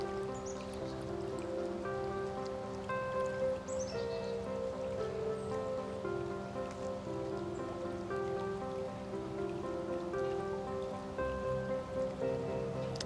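Spring water flowing out from under a rock outcropping along the Natchez Trace, a steady close trickling and splashing that runs continuously without pause.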